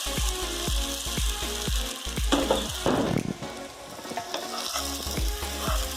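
Sabudana is stirred and roasted in ghee in a pan, giving a steady sizzle broken by rhythmic scraping strokes of the spoon, close and fairly loud, with no talk.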